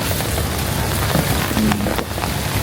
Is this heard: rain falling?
yes